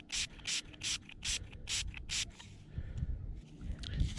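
Several quick, hissing squirts of spray hit a dug-up button in a steady rhythm, about six short bursts. Fainter rustling and handling noises follow.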